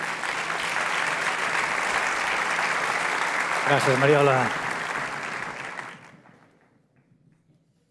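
An audience at an education event in Barcelona applauds steadily for several seconds. A presenter briefly speaks over the clapping, and then it dies away into near silence.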